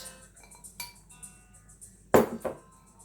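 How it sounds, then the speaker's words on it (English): A spoon clinks against a pot of eggplant stew in beef broth, with light metallic taps followed by two sharper knocks near the end, close and clear, and no voices. "You give this a stir."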